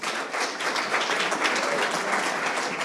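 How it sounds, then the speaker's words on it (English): An event audience at a sales leaders awards ceremony breaks into steady, dense applause that holds at an even level throughout without fading. "Can we have a big round of applause,"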